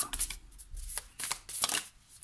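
Tarot cards being shuffled by hand, several quick papery riffles and slaps in close, soft bursts with short pauses between them.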